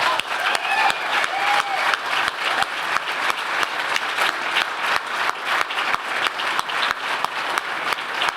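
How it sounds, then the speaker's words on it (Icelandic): An indoor audience at an information technology awards ceremony applauds an award-winning company with loud, dense, sustained clapping that runs steadily throughout. "Þannig að við skulum gefa þessu fyrirtæki gott klapp"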